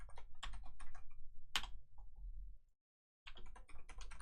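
Close, clattering computer keyboard typing with uneven bursts of keystrokes, a sharper tap partway through, a short silent gap, then the typing resumes.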